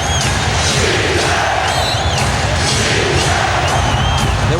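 Roaring arena crowd at the 2000 NBA Western Conference Finals Game 7 between the Trail Blazers and Lakers, a loud continuous din of cheering and shouting that fills the whole stretch, with faint whistle-like tones riding on top.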